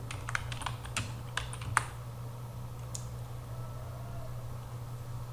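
A quick burst of keystrokes on a computer keyboard as a name is typed into a form field, crisp clicks for about two seconds, then only a low steady hum with no voices.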